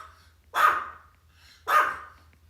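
Two sharp barks from a dog indoors, about a second apart, moderately close over a faint steady hum, with no voices.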